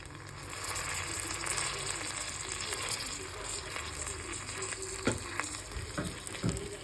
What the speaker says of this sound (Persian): الان ماکارونیم رو اضافه میکنم